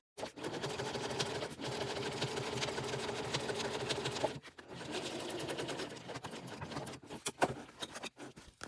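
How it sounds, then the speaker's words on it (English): A sewing machine top-stitches a quilted pouch, running in steady close-up stitching bursts with a few brief stops and restarts. "I'm only sewing at the moment on the right side of my tape"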